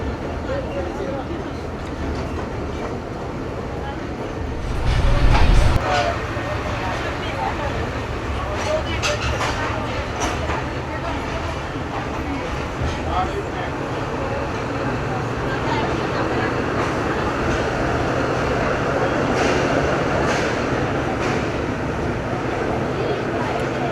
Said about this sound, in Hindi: लाहौर जंक्शन के प्लेटफॉर्म नंबर 5 पे ले रहे हैं जी 206 डाउन बाबू पैसेंजर ट्रेन को